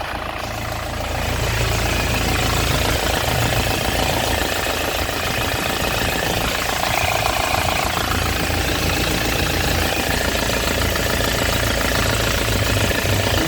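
A 2009 Isuzu Panther LS Turbo diesel engine idling steadily, a loud, continuous close-up rumble with a rough knocking texture that stays even throughout, with no talk.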